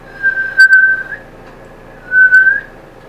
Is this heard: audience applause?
no